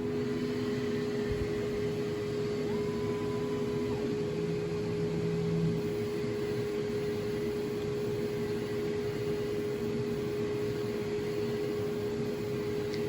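A steady mechanical whir with a constant hum runs throughout from an exhaust fan running with an xTool S1 laser engraver, spinning at an even speed, with no voices.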